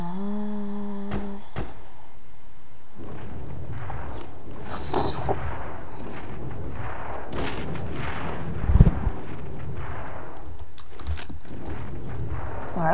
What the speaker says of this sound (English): There's so many explosions and stuff.